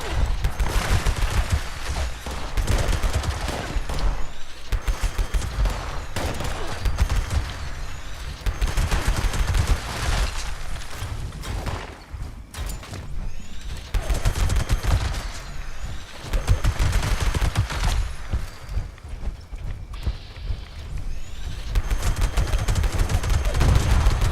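The Pepper Shaker, a rapid-fire revolving-drum gun in Fallout 76, blasts in long sustained bursts of loud, dense shots, pausing briefly between volleys amid heavy game ambience.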